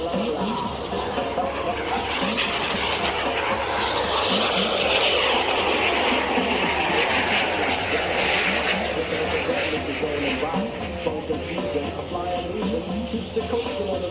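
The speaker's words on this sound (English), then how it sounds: "You can see how hard it is for him to turn that fighter right now." Fighter jet flying and banking hard through a turn at the Aerospace Valley Airshow at Edwards AFB, a loud continuous roar with a sweeping rise and fall in pitch, heard from a distance across the whole stretch.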